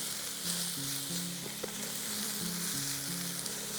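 Food sizzling steadily in a pan while cooking outdoors on a road trip, a constant bright crackling hiss over a soft repeating background melody with no talk.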